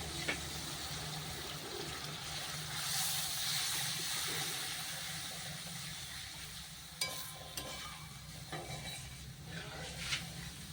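Water is poured into a pan of frying cauliflower curry, a short rushing splash that settles into a low bubbling sizzle with a few faint clinks.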